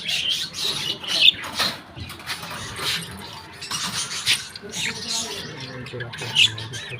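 Small birds give scattered squawks and chirps at a moderate distance, over soft background rustling and faint talk.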